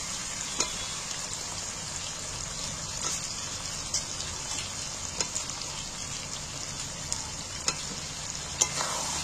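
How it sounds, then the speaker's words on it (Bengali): Fried potatoes stirred into a sizzling chicken gravy give a steady close frying hiss with repeated light scrapes and clinks of a spatula against the pot, no voices. "এবার আমি আলু ভাজা আলুগুলো এর মধ্যে তুলে দিচ্ছি।"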